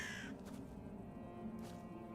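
Crows cawing in the Graveyard Keeper video game, two or three faint distant caws over a steady low background hum.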